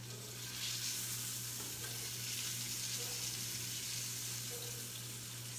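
Chorizo sizzles and fries in olive oil in a hot non-stick pan, a steady, loud crackling hiss that runs unbroken throughout with a low hum beneath and no talking.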